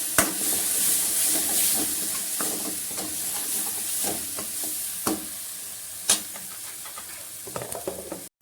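Spices stirred and fried in a pan for whole masoor dal, with a steady sizzle and hiss under repeated scraping strokes of a spoon, close up, with no talk.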